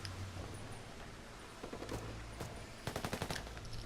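Minigun fire in Ghost Recon Breakpoint, a rapid burst of close mechanical shots that rattle out at the end over a dense background of distant gunfire, with no talking.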